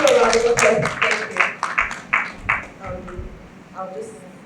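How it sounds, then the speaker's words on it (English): A book launch audience applauds with scattered, fairly close clapping that is busiest at first and thins out over a few seconds, with talking over it. "Give you a round of applause."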